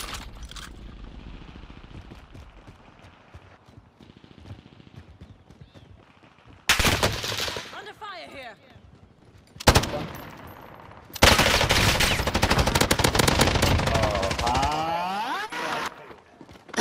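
Video game light machine gun fire comes in several long sustained bursts, loud and close, separated by quieter stretches of game ambience and faint mechanical noise.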